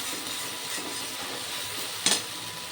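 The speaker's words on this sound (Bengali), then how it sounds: "ভালো করে মশলা কষিয়ে নেব।" Spices for a Bengali rohu fish curry sauté in a hot pan, a steady sizzle and hiss with occasional stirring scrapes and one brief louder burst near the end.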